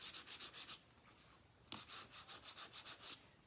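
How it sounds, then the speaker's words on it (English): Bone folder burnishing a paper card, a close, quiet dry rubbing in quick rhythmic back-and-forth strokes, a short pause near the middle, then another run of strokes. "Give it a good burnish with your bone folder."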